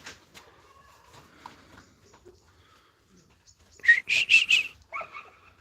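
A young female dog gives a quick burst of three or four sharp, high barks or yelps near the end, after a long quiet stretch with faint scattered noises.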